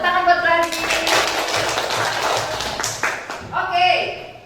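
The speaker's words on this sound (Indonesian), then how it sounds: "Tepuk tangan buat Gladys." A classroom of students claps for a classmate, giving a few seconds of mixed clapping beneath a teacher's voice and other voices in the room.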